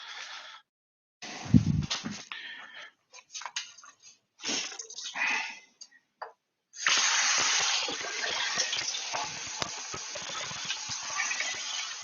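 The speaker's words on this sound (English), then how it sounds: "go give these a rinse" Running tap water rinsing plant pots during a potting session, a steady broadband gush in the second half after intermittent splashing and clattering handling sounds, fairly close with no talk.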